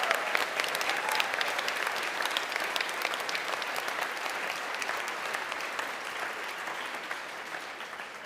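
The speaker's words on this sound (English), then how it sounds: "Can we give a huge round of applause to our graduates today?" Graduates at a summer graduation ceremony receive a long, steady burst of applause from a large crowd, dense and even throughout with no voices on top.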